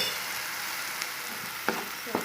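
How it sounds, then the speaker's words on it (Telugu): Chicken curry masala with chili powder fries in a pan, a steady close sizzle with a few soft stirring knocks near the end. "సో బాగా కలుపుకోవాలి, ఇలా ఫ్రై చేసుకోండి."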